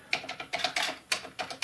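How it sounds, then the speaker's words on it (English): Keys on a VIC-20 computer keyboard pressed one at a time, a handful of close, crisp clicks in an uneven rhythm, with no talking. "So wait, let's have a look if all keys work."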